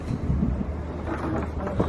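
Wind gusting across an abandoned ship, a low rumbling buffeting roar with soft fluctuations, close and steady for a short stretch with no speech.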